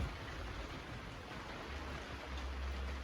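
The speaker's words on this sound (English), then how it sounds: "as you can hear, it's raining again." Rain falling outside a farmhouse, a soft, steady wash of drops with a low rumble underneath, even and unbroken.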